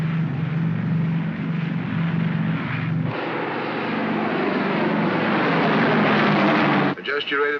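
An airplane on its landing approach to a runway produces a loud, continuous engine roar that holds steady throughout, shifting in tone about a third of the way in and breaking up briefly near the end.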